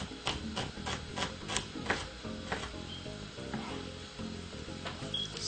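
Medium red onion sizzles in a pan for a kale pasta dish. A close, steady frying crackle is broken by a series of sharp rhythmic taps early on, likely a utensil stirring against the pan.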